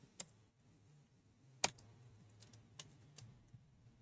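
Worn computer keyboard tapped in a BIOS setup screen, a few sharp isolated key clicks spaced irregularly over quiet room tone, one louder keystroke midway.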